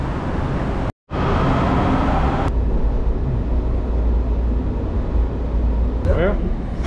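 Subway train riding underground, a loud continuous rumble and roar of the car in motion with steady low-frequency drone, broken by a brief sharp dropout, then metallic squeal-like tones near the end.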